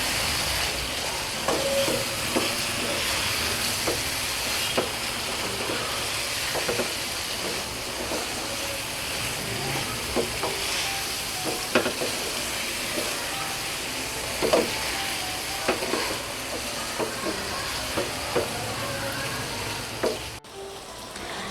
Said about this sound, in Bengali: এখন এই চিংড়ি মাছটাকে একটু মশলার সাথে আমি 2 থেকে 3 মিনিট একটু নেড়ে চেড়ে একটু কষিয়ে নিব